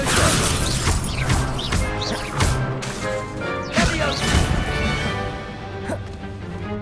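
Extendo and Levioso spell impacts in a Hogwarts Legacy wizard duel: loud, repeated magical crashes and thwacks with whooshing swishes, several sharp hits spaced across the clip over a dense game-sound bed.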